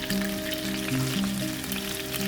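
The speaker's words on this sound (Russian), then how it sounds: "И жарим где-то еще 3 минутки с другой стороны до красивой золотистой корочки на среднем огне." A chicken breast fries in a pan over medium heat with a steady, close sizzle that keeps an even level throughout, with no talking.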